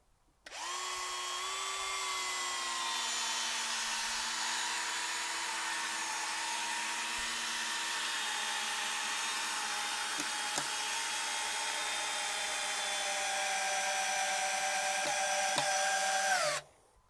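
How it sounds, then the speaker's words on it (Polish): A Parkside 12V cordless drill driver whines steadily and loudly for about sixteen seconds while backing out screws and drilling into wood, its motor pitch dipping slightly under load, with no talking. "I na koniec spróbujemy wykręcić wszystkie te wkręty i jeszcze wywiercić tutaj"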